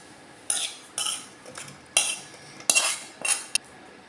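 Spicy raw mango chilli fry scooped from a pan into a bowl, a series of sharp metallic spoon scrapes and clinks against cookware in irregular bursts, close and fairly loud.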